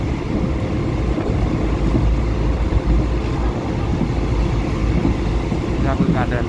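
Steady, loud rumble of a moving train, a continuous dense roar of wheels and carriage noise throughout with no break.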